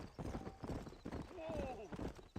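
Horse hooves clip-clop in Red Dead Redemption as riders set off out of town, a quick rhythmic trot under a voice and a brief whinny.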